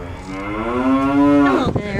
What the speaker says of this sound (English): Bunch of cows.